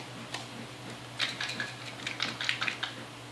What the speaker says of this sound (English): I'm going to screw the lid on top and give it a good shake.